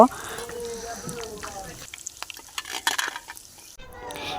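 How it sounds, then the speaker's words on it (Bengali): Chicken liver and banana flower pakoras frying in hot oil, a soft crackling sizzle with stirring and scraping sounds, fairly quiet and close, broken by brief pauses near the end. "তেলটা গরম হয়ে যাওয়ার পরে আমি এক এক করে পকোড়াগুলো দিয়ে দিলাম গরম তেলে"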